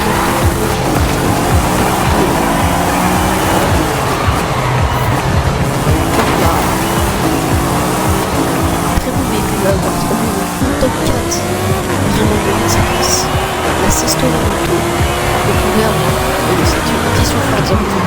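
Car drifting in the video game Forza Horizon 5, loud continuous engine revving with shifting pitch and tire squeal throughout, with someone talking over it.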